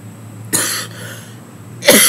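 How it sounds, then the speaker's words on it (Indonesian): A person coughs twice, two short sharp bursts about 1.4 seconds apart, fairly close, with a quiet room hum in between and no talking. "batuk-batuk"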